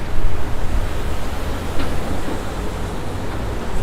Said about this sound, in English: Ooh, it's so windy.